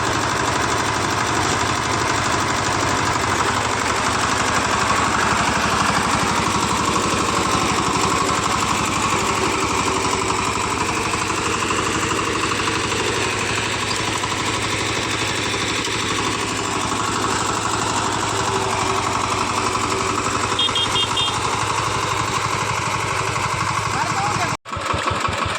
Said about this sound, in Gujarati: આપણે ટ્રેક્ટર એક બે ઉતલમાં ગરમી ચડી ગઈ